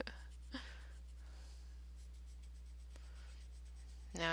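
Pencil tip scratching softly across paper while drawing with Star Joy Gold layering pencils, faint quiet strokes with a couple of brief louder scrapes, close and alone.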